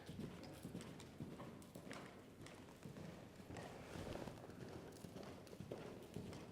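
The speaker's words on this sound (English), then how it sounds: "Let's see what his horse looks like here." Horse hooves clip-clop steadily on the ground at a horsemanship clinic, a busy, continuous rhythm of hoofbeats at moderate distance with no talking.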